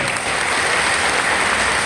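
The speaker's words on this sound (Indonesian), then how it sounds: "Tepuk tangan dulu." A burst of clapping from a group fills the moment, dense and steady throughout, close and fairly loud.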